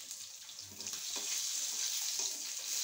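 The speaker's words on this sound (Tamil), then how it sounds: "கடலை எண்ணெயில் தான் இன்றைக்கி பொரிக்கிறேன்" Fish fry in hot peanut oil with a bright, steady sizzle close up, rising slightly after the first second and holding loud to the end, with no talk.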